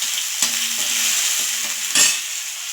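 Garlic, ginger and curry leaves crackle and sizzle in hot oil, with a few sharp stirring knocks against the pan over a bright, steady frying hiss.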